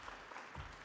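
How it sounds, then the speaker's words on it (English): Audience applause at an academic conference awards session: a short, faint wash of many hands clapping together, steady and without voices. "So I think let's give Sukran a big round of applause one more time."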